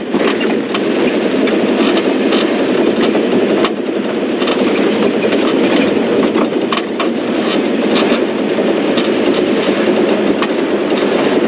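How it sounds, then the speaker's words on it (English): Old vehicle's engine running loudly while rolling downhill, a constant rough droning roar with rattling and clattering throughout, close and unbroken. "It always amazes me how used to the sound of the engine we do get."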